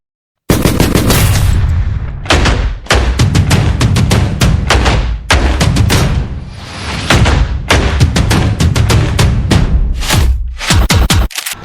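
Paintball guns firing at an amusement park in Patna: rapid, dense volleys of loud popping shots in long bursts, close and continuous with brief pauses.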